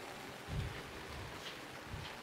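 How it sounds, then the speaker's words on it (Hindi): Heavy rain pours steadily over a hillside home in Uttarakhand, a continuous soft broadband hiss with a few low thuds, fairly faint and without voices. "बारिश तो रुकने का नाम नहीं ले रही है"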